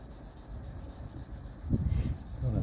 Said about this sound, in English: Thinking it doesn't matter what direction I sand in.